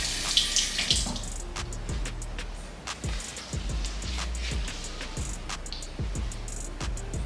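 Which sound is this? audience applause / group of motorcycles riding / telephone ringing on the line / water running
water running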